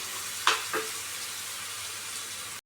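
Masala sizzling in a pan for a prawn curry, a steady hiss of hot oil filling the background, broken by two faint scraping touches early on; no one speaks.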